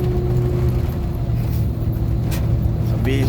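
Steady low rumble of road traffic in a jam, idling engines close by with a faint horn-like tone near the end, no talking.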